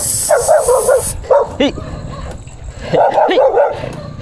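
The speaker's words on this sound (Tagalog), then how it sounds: "Yung umaahon ka tapos hinabol ka ng aso." Dogs chase a cyclist climbing a hill at night in Rosario, La Union, with a few close, loud barks and yips in bursts while someone shouts over them.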